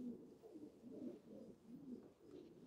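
Pigeons coo in a steady run of soft, low, rounded calls that repeat in a rhythmic pulse, close by and with no voices over them.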